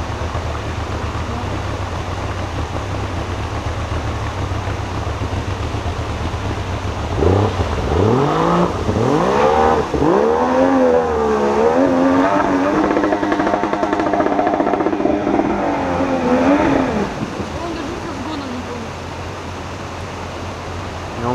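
A jet boat engine on the Kandat river starts as a steady rushing drone, then revs up with a rising, whining pitch that holds loud over water and wind noise.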